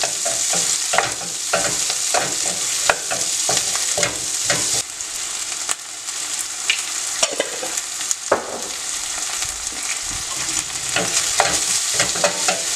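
Chopped onion, green chili and curry leaves sauté in coconut oil for Kerala chemmeen theeyal, with a steady close sizzle broken by repeated scrapes and stirs of a spoon in the pan.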